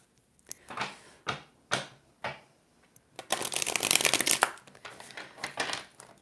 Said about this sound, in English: Just let me shuffle a little bit